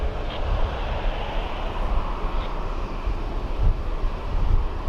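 Jet airliner engine roar at Birmingham Airport as a Fly4 flight heads out toward Naples, a steady broadband rumble with low-end throb holding level throughout, moderately loud with no voices.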